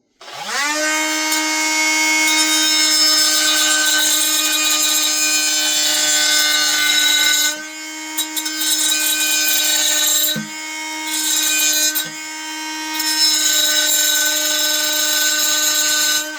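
Ryobi 18-V hand-held wet/dry tile saw cutting tile, a loud, steady, high-pitched motor whine that holds for most of the stretch, dips briefly a few times as the blade loads, and rises again, close and without speech.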